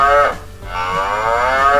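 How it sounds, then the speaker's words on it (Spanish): Mooing of a black-and-white cow from a Chicco sound toy farm, an electronic moo with clear tonal harmonics rising and falling, heard alone, close and loud for under two seconds. "La vaca blanca y negra."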